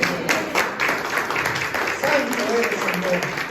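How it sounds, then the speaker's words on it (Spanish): A church congregation applauds during a Spanish-language sermon, a steady wash of clapping that lasts the whole moment while a voice keeps talking over it. "Dale un aplauso, Señor."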